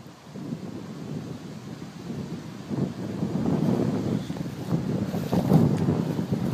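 Wind gusting outdoors the day before a storm, a rushing blustery roar that swells and grows louder through the clip, with microphone buffeting.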